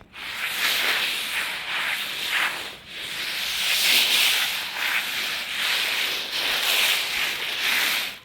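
Dried maize kernels spread by hand across a blanket, giving a steady, close granular rubbing and rustling hiss that swells in repeated sweeping strokes with a brief pause partway through.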